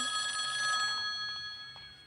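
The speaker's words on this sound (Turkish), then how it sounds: "Telefon çaldı." A phone rings in the horror video game Eyes, a steady electronic bell tone that holds and then fades, alone and fairly quiet.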